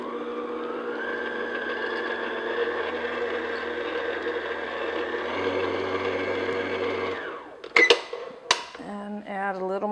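Electric mixer running on low speed, blending red liquid into red velvet cupcake batter: a steady, near whirring hum for several seconds, then it stops and a bowl clinks and a voice speaks.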